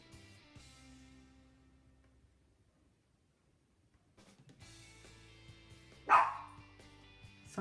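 A dog shut out of a home office barks once, loud and close, after a quiet stretch with faint background hum and scattered small ticks.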